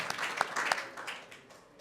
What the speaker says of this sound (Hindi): हालेलुया, ताली बजाकर प्रभु का धन्यवाद करो।